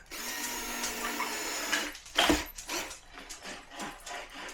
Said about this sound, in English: Now I have 3 screws that hold this down. So we're going to screw those in.